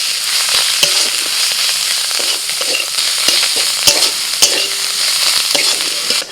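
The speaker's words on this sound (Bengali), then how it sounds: "মশলাটা ভালো করে কষিয়ে নিয়ে" Ground turmeric, coriander, cumin, Kashmiri chilli and salt with chopped coriander frying in a pan for Kolkata-style egg devil, a loud steady sizzle with repeated sharp spatula taps and scrapes, no talking.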